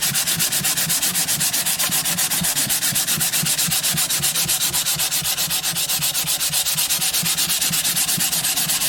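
Sandpaper rubs briskly over the finish of a custom guitar body in fast, even back-and-forth strokes, loud and close, continuing without pause and without speech.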